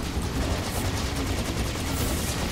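Dense, continuous rapid gunfire in the video game Serious Sam 2 forms a thick wall of noise that stays loud and steady throughout, with no clear gaps between shots.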